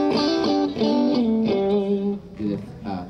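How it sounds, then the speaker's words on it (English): A clean electric guitar plays a short melodic phrase of plucked notes through an amp, moderately loud, with ringing sustain and no talking. "Here's the amplifier without the capsule and a bit of clean first."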